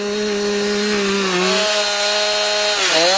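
Electric chainsaw cutting timber on a wooden house build, a loud continuous motor drone that sags slightly under load and dips sharply near the end as the blade works through the wood.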